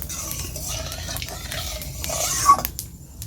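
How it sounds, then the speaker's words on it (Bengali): Bay leaf, dried red chilies and whole cumin stirred in hot oil, soft scraping and clinking of a spoon against the pan over a low sizzle, with a brief louder clatter near the end. "সব কিছু ভালো করে নেড়ে চেড়ে নিচ্ছি"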